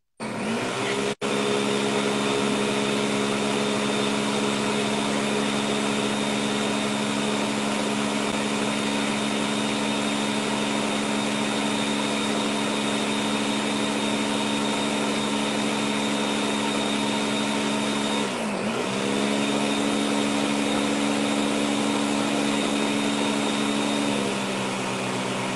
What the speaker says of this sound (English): Okay, so I'm going to blend it now.